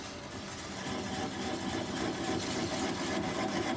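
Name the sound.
wood lathe running slowed to about 200 RPM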